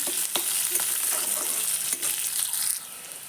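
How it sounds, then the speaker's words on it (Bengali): Chopped onion and green chillies fry in a pan with a bright, constant sizzle, stirred by a spatula that adds occasional soft scraping taps close by. "তার মধ্যে দিয়ে দেব কুচানো পেঁয়াজ আর কাঁচা লঙ্কা কুচি দিয়ে একসঙ্গে ভালো করে একটু মিশিয়ে নেব"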